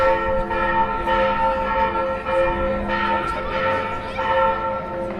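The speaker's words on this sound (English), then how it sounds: "Wait till this bell stops." A church bell rings in San Miguel, Mexico, with loud, resonant repeated strikes whose tones overlap and linger over street ambience, close by and without talk.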